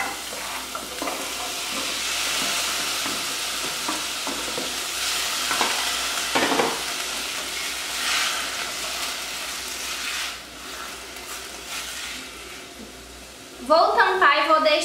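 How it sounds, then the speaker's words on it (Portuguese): Tomato and bell pepper dropped into a hot frying pan and stirred, a steady close sizzle with scraping and shuffling of the utensil, and a voice briefly speaking near the end. "Vou colocar o tomate e o pimentão."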